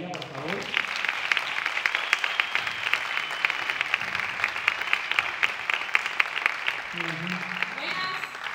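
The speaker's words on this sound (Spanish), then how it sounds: "Un aplauso para ella, por favor." Audience applause at a short-film festival gala in Castilblanco, a steady wash of clapping lasting several seconds, framed by a presenter's voice at the start and end.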